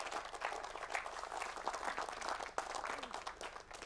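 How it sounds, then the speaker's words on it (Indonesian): An audience at an Indonesian talk or seminar applauds, with dense, steady clapping from many hands that is sustained and fairly soft, as if heard from a distance. "Oke, tepuk tangan kawan-kawan sekalian."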